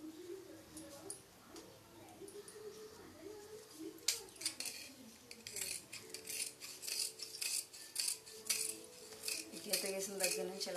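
Scissors cutting jacket cloth, a series of sharp snipping and metallic clicks in uneven bursts that grow busier toward the end, with some background murmur.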